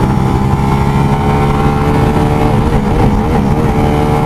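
A Bajaj Freedom 125 motorcycle pulls away in first gear, its engine droning steadily and loud up close, with a slight rise and wobble in pitch as it accelerates over about four seconds.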